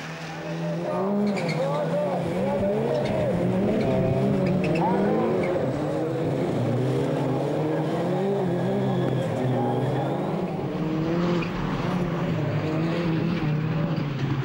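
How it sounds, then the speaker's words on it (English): Rallycross cars, including a Citroën C4, race at Lessay in France, engines revving and shifting loudly throughout with tire noise, while a commentator talks over the racing. "Peu begins lap 3 in the lead, ahead of Tolmer in the Citroën C4."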